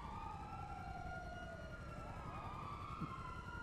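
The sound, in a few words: police sirens chasing in GTA Online, video game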